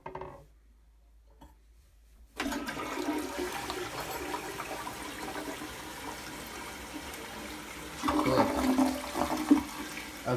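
A toilet flushes with a sudden rush of water that starts after about two seconds of near silence, then keeps roaring and gurgling steadily and swells louder near the end; no one speaks.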